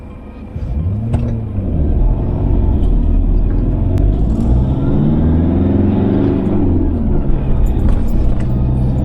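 Road noise fills the cab of a Toyota Hilux as it pulls onto a motorway. A loud, continuous low rumble and whir swells as the engine climbs through its revs, with no talk.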